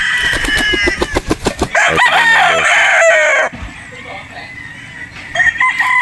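A gamefowl rooster crows loudly and close at a game farm in Batangas, a long strained call, with clucking and farmyard noise around it and a brief quieter stretch near the end.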